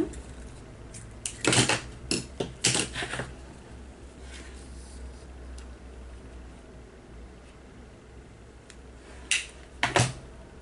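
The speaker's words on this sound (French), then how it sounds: "Des ciseaux qui coupent, il est tout neuf pourtant celui-là" Scissors snipping through ribbon in a few quick close cuts, one cluster of crisp snips near the start and another pair near the end, with quiet between them.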